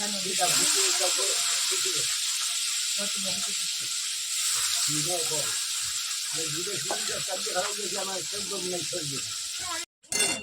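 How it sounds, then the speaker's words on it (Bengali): Cumin seeds and dried red chillies sizzle in hot oil in a wok with a steady, bright hiss throughout, while someone talks over it. "কড়াইতে জিরা ফোড়ন দিয়েছি আর শুকনো লঙ্কা ফোড়ন দিয়েছি"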